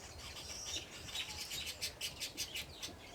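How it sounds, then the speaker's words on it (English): A large flock of birds in a town garden setting, chirping together in a faint, busy twitter that grows into a run of rhythmic calls toward the end, over low background noise. "Wow, these birds are so many."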